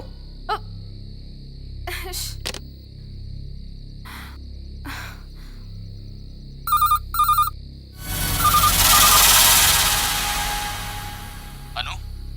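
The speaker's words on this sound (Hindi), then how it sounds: "इस लैंडलाइन पर रिपीटेडली कोई फोन कर रहा है।" A landline telephone rings in a dubbed action-movie scene, with a brief double ring pulsing twice mid-clip, followed by a loud rushing noise.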